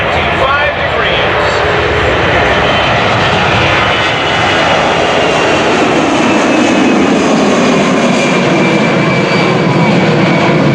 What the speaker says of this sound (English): watch the performance of this airplane as it takes off and pulls its nose up 25 degrees.